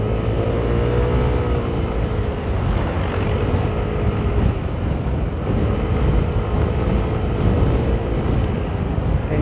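Motorcycle cruising on a road during a Philippine loop tour toward Dumaguete, Negros: a steady, loud engine drone with heavy wind rush over the microphone, continuous throughout with no talk.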